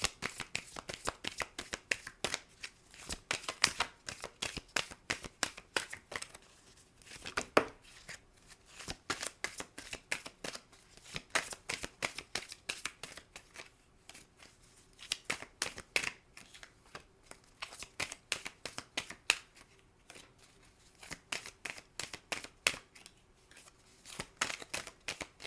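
Oracle cards being shuffled for a reading, rapid riffling and flicking in repeated bursts with short pauses between, close and fairly quiet, no voice over it.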